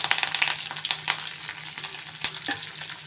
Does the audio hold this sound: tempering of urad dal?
yes